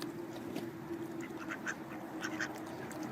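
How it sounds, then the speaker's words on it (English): Ducks quack repeatedly in short bursts over a steady low hum, fairly faint and at a moderate distance, with no talking. "it's for the duckies"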